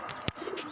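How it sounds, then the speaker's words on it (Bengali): Caged pigeons on a rooftop garden make a brief, soft coo, close and faint. "কবুতর আছে"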